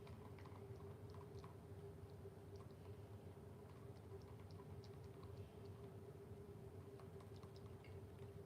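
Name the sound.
someone chewing on nails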